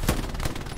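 Machine gun fire in the World War II shooter game Hell Let Loose, a short rapid burst of shots heard up close and loud with no speech over it.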